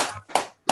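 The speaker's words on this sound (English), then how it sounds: "Please feel free to clap for Shuhang." Online audience clapping after a talk at a string math conference, a few sparse, separate claps coming through over a call, close and fairly quiet.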